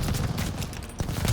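Rapid bursts of machine gun fire from a half-track in Call of Duty: Vanguard, loud and close, with dense overlapping shots through the short stretch.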